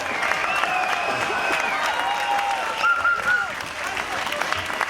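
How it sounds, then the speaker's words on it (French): Audience applause, an ovation for sailor Jean-Luc Van den Heede at the Golden Globe Race podium ceremony in Les Sables d'Olonne, steady dense clapping throughout with some whistles and crowd noise. "Vous pouvez encore lui faire une ovation"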